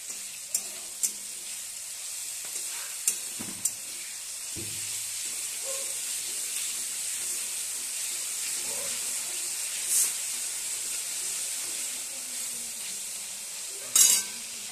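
Ginger and tomato fry with salt in a pan, a steady close sizzle and hiss running throughout, with a few light clinks of stirring and brief louder spits near the end.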